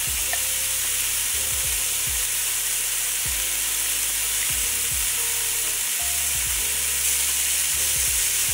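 Tortellini soup ingredients sizzle steadily in a pot, a loud continuous frying hiss with a few low bumps and clunks from stirring or the pot shifting.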